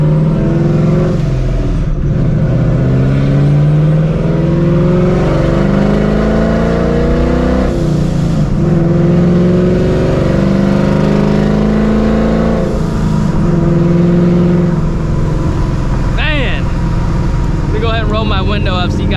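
A 1300 hp supercharged 4.6 2V Ford Mustang GT engine with open exhaust dumps revs repeatedly with a loud, raw exhaust note, rising and falling in pitch over a steady idle rumble, close by.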